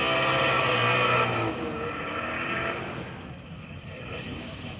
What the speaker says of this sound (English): Here comes that turbocharged Camaro again